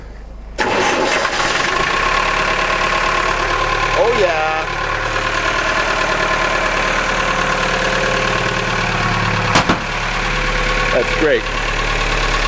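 A boat's engine catches abruptly and settles into a loud, steady idle with a constant low hum, while people speak briefly over the running motor.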